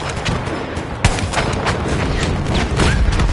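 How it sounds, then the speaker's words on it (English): Pom-pom anti-aircraft guns fire in a video game battle, a dense stream of rapid, loud bangs with one sharp crack standing out, overlapping in a continuous rattle. "Pom-pom guns over there."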